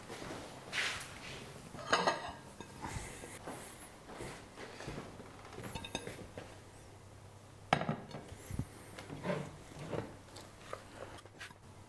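A plate being fetched and set down in a kitchen while a wild boar ragout is plated, with scattered clinks and knocks of crockery and cutlery at varying loudness and no talk.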